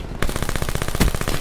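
Rapid automatic fire from the VMP submachine gun in Call of Duty: Black Ops 4, a tight, evenly spaced burst of close shots with one heavier thump midway, no voices.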